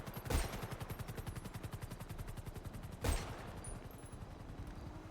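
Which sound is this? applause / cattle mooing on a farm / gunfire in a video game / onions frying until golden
gunfire in a video game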